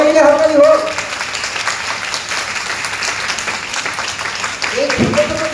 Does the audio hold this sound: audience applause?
yes